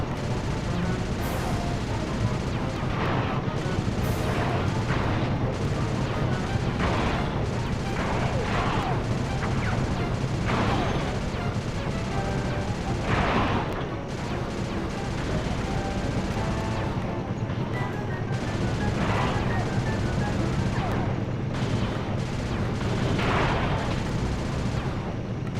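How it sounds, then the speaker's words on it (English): Missiles fire and explode repeatedly in Sly Cooper 2: Band of Thieves, with loud bursts and crashes recurring every few seconds over a dense, constant game din. "How come we don't get missiles like that?"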